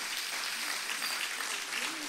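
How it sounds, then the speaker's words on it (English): Steady applause from an audience after a morning program, a dense wash of clapping with some cheering voices, moderately loud and continuous throughout. "give them another cheer"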